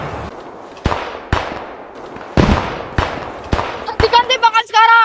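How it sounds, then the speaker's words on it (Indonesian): Gunfire in an Indonesian film scene about the Aceh resistance fighter Cut Nyak Dhien: several sharp, loud shots spaced irregularly, each trailing off with echo, followed by a quick burst of rapid shots and a shouted voice at the end. "Hentikan tembakan sekarang."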